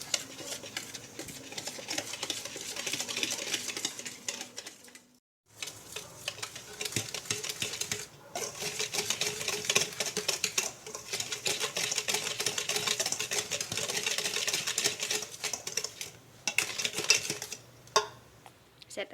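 Dry cake ingredients (cocoa powder, flour, baking soda, baking powder, salt) stirred in a bowl, a steady close scraping and clinking of a utensil against the bowl, pausing briefly midway and then resuming.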